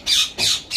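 Budgerigars and Indian ringneck parakeets in a home aviary give three loud, harsh squawks in quick succession, close and clear with no talking.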